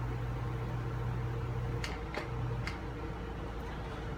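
A machine running for the first time after its drive belt was adjusted, noticeably tight, gives a steady low mechanical hum with a few sharp ticks partway through, close and continuous with no talk.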